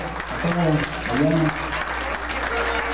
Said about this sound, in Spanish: aplauso fuertísimo para recién Casados